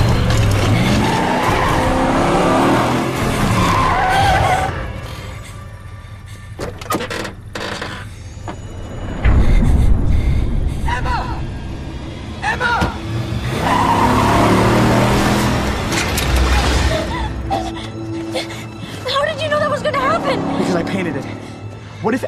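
A car skids with squealing tires and revs hard as it pulls away in a suburban drama scene, the bursts of engine and tire noise mixed with agitated voices talking over them.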